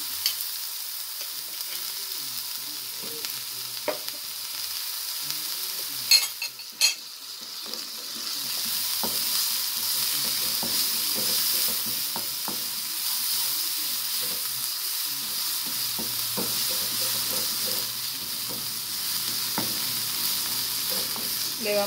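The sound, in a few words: onion and garlic sautéing in a pan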